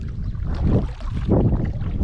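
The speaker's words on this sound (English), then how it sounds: "It's like the wind just goes right down through here." Wind gusts down the river while kayaking, a loud, rumbling buffet across the mic that swells twice, with no talk.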